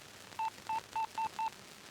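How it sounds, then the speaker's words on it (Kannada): Five short, evenly spaced touch-tone beeps sound as a telephone number is dialed, clean and fairly quiet with no talk. "ಆ ಬ್ರೋಕರ್ ಒಂದು ಫೋನ್ ಮಾಡು"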